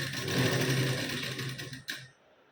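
Close, steady whir of a sewing machine stitching a blouse sleeve, running continuously for about two seconds before stopping with a brief clack.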